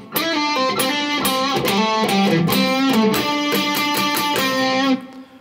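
Electric guitar plays the outro riff of a song an octave up, with a quick hammer-on and a blues bend, loud, close and continuous with a driven, distorted tone before cutting off near the end.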